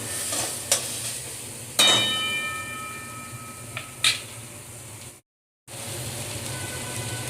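Grated garlic sauteing in a pan makes a steady soft sizzle, broken by a few sharp clicks of a utensil stirring and one brief dropout, fairly close with no talk.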